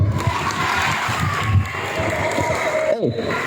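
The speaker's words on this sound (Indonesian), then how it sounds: "Tepuk tangan dong." Elementary schoolchildren at a school gathering clap and cheer together, a dense crowd of overlapping claps and excited voices, loud and close, with a few shouts rising near the end.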